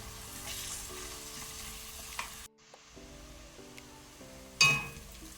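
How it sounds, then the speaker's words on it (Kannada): Chopped garlic and ginger frying in a pan for bamboo shoot chicken masala, sizzling steadily up close with a brief pause midway, then a louder hiss and a clink near the end. "ಇದನ್ನು ಸಹ ನಾವೀಗ ಒಳ್ಳೆ ರೀತಿ ಫ್ರೈ ಮಾಡುವ"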